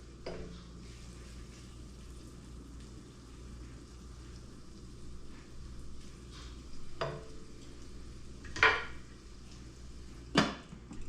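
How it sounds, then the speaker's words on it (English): Steak tips fry slowly in a pan, giving off a quiet, steady sizzle with a few sharp clinks of utensils against the pan near the end, and no voices. "they are frying away real slow"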